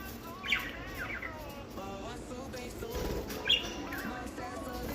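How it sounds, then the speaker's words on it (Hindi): Small budgerigar parakeets chirp and twitter in a hostel, with a few brighter calls standing out over a steady background hum at moderate distance. "हमारे हॉस्टल में यहाँ पे बहुत सारी चिड़िया आ चुकी हैं, छोटी छोटी सी,"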